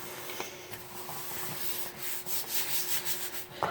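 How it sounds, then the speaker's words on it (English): A bone folder rubbing firmly along a paper fold in a craft project, a steady close scraping hiss in long back-and-forth strokes over a faint constant hum. "I'm just going to give it a good rub on the fold here where the fold is supposed to be"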